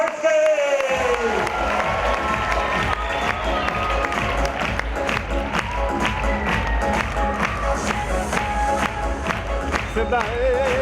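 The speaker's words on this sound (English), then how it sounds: "let's all give a round of applause to Rabbi Abraham J. Twerski!" Audience applause and cheering for a rabbi's introduction at a speaking event, loud and sustained with dense clapping throughout, mixed with crowd noise and some voices.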